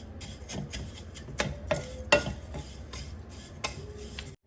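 Vermicelli toasts in ghee in a pan for kheer, with a quiet sizzle beneath irregular metallic clinks and scrapes of a spoon stirring against the pan.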